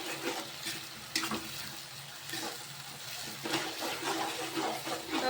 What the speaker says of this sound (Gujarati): જ્યાં સુધી બ્રાઉન કલર ન આવે ત્યાં સુધી આપણે એકદમ મિક્સ કરતું રહેવાનું છે